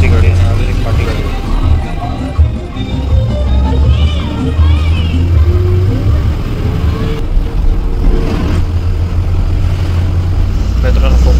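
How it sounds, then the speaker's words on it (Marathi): Slow traffic creeps past on the Mumbai-Goa highway, a continuous low engine rumble and road hum from nearby vehicles heard from inside one, with a person talking over it throughout. "गाड्या हळूहळू पास होत आहेत"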